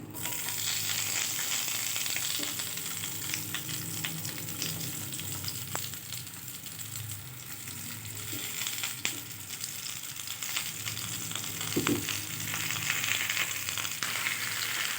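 Thick oval-cut medium potato slices fry in hot oil in a pan for a Tamil-style potato fry, giving a steady close sizzle throughout with a few soft clinks.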